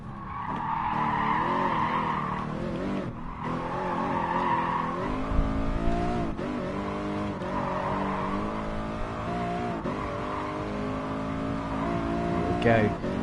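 Tires squeal and skid under braking in the racing game Gran Turismo Sport, with a droning car engine throughout and a person talking over the sound.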